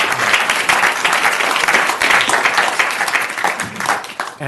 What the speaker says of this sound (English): that applause is also for any of you veterans who are watching on TV or on Zoom